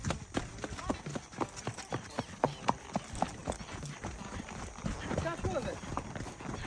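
Many horses' hooves clip-clop on a group horseback ride, a steady run of close hoof strikes in an uneven trotting rhythm, with riders talking over it and a faint whinny toward the end.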